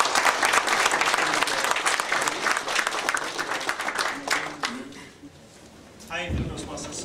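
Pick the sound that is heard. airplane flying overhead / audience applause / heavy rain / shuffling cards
audience applause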